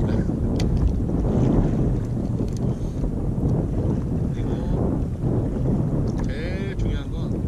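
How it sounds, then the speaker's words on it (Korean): Steady, strong wind buffets the microphone over open sea while kayak fishing, a continuous roar throughout with faint splashes and brief chirps near the end. "지금 바람이 약간은 세요."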